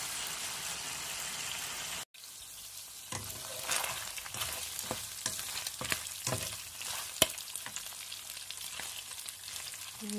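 Chicken hearts and gizzards with carrot, peppers, onion and garlic sizzle in a pan, a steady close crackle with scattered spatters and stirring taps after a brief cut near the start, with no talking.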